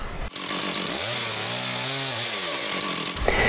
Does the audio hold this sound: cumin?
no